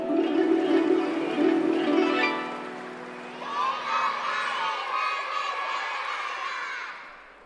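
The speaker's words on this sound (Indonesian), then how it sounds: "Mari kita berikan tepuk tangan sekali lagi dengan performance yang luar biasa." An audience at a national Imlek Chinese New Year celebration cheers and shouts after a performance, a loud burst of voices with children's whoops that eases slightly and then swells again into a sustained crowd roar.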